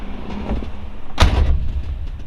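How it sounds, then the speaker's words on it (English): The door of a 1966 Chevrolet Chevelle SS396 is swung shut with a single solid thump, the closing preceded by a brief rattle, close and fairly loud with no talk. "Shut this door so somebody doesn't"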